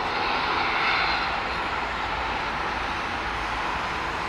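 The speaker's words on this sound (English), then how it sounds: "Does look like a DC-8, doesn't it?" A DC-8 cargo freighter on approach into Bournemouth produces a loud, dense jet roar with a strong hissing upper band, peaking early and then easing off slightly as it passes.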